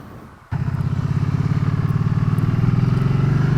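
A Can-Am Spyder three-wheeled motorcycle fires up sharply after a quiet moment, then its engine pulses in a fast, steady throb that builds slightly as it rides along a beach road, loud and close.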